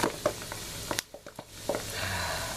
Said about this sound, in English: Just keep frying and frying and frying until it's done.